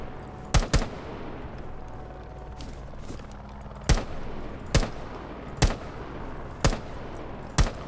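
Single-fire gunshots in the game Rainbow Six Siege, eight sharp separate cracks spaced irregularly over a low background ambience, loud and with no talk.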